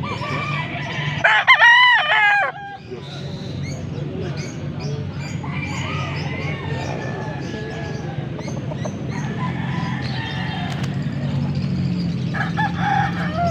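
A rooster crows loudly near the start, followed by steady clucking and background fowl noise, with muffled voices underneath.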